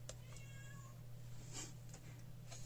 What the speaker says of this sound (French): Alors si vous entendez miauler, c'est mon chat qui se pointe.